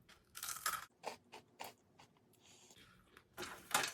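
Crisp, close crunching of a dry cracker from an Italian Armed Forces 24-hour ration being chewed, several sharp bites in an irregular rhythm with brief pauses.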